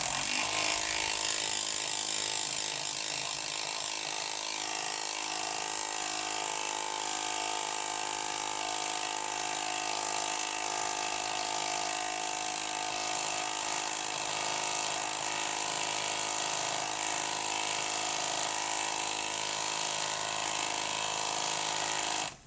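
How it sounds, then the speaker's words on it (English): Milwaukee M12 impact driver running continuously, a loud, dense rattling hammer-whir sustained for about twenty seconds as it drives screws, close up with no talk. "with the Impact driver."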